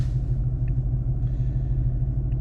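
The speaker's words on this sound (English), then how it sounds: "Now you guys can really hear this transmission." A steady low rumble of a car transmission in gear under load around 3,000 RPM, a deep droning hum with a faint whine, constant and close, no voices.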